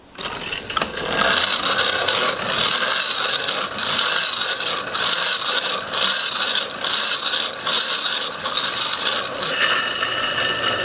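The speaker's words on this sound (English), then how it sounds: "So that actually works like a real flywheel" A pump generator flywheel spinning freely on a one-way clutch, a continuous close whirring, scraping mechanical hum with a faint rhythmic pulsing as it runs on.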